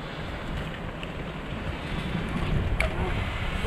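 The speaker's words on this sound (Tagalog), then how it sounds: "Ayun lang hangin." Steady broadband wind rushing across the microphone, a continuous roar with no pauses or voices.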